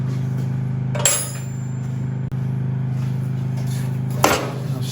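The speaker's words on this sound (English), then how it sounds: "I need a hammer." A hammer strikes metal during restoration of an M2 Cletrac crawler tractor, with two sharp, ringing blows well apart over a steady low hum.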